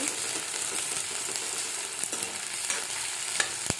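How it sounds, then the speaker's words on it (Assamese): Sliced onions and raw green chillies sizzle in hot oil in a pan while cooking a simple meat curry, a constant near hiss with light crackles and a sharp utensil tap near the end. "পিঁয়াজখিনি অকণমান দেৰি ভাজি থাকিব"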